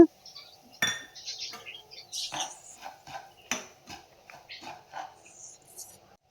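Fine white semolina (rava) being roasted in ghee in a pan for rava kesari, heard as repeated close metal scrapes and clinks of a spoon stirring against the pan, with faint background hum.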